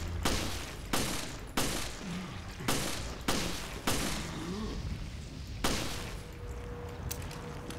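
Gunfire from the video game Resident Evil: Revelations: a string of loud, sharp shots at irregular intervals of about a second, each with a short decaying tail, over a low game ambience.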